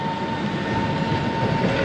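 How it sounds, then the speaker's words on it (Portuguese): Sightseeing train rolling through a city street in Slovakia or Serbia, heard as a steady, fairly loud rumble with a sustained tonal hum, continuous and without pauses. "E aqui um trem aí, fazendo passeio pela cidade, atrapalhando o meu visual aí."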